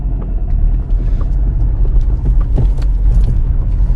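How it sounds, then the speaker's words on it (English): A manual car's engine runs as the clutch is let out and gas is applied, producing a steady, loud low rumble with a few faint knocks and no voices. "I'm gonna give it some gas, just so there's some initial throttle response."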